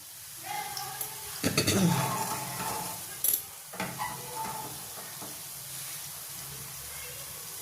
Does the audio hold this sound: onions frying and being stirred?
yes